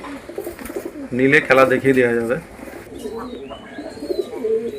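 Paired racing pigeons coo softly in short bursts close by while someone talks over them.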